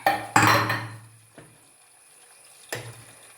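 A pressure cooker of boiled taro is opened, giving a sharp metallic clank of the lid, a short burst of hissing steam and water, then a quieter knock and another clatter close by.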